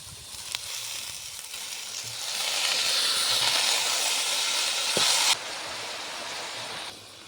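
Chopped spinach hits a hot pan with a loud, close burst of sizzling hiss that holds steady for several seconds and then drops to a softer frying crackle, with no talk.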